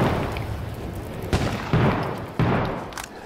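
Grenade blast and gunfire in the survival shooter H1Z1 on a farm map: a dense, continuous rumble of combat noise punctuated by three sharp, loud bangs at roughly even intervals, with no talking.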